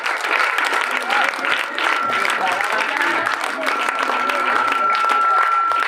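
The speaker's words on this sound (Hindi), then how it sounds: "तालियां रुकनी नहीं चाहिए बल्कि बजती रहनी चाहिए।" An audience at a school welcoming ceremony and calendar distribution at a government Urdu school in Faizpura, Bidar, keeps up loud, continuous clapping. A faint steady tone and some crowd voices run beneath it.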